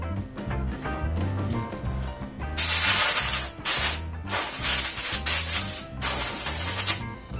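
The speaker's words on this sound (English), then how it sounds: "So we're going to blow it with an air line from a distance" An air line blows a freshly zinc-electroplated metal part dry from a distance. About four sharp, hissing blasts are separated by brief gaps, over a steady mechanical hum.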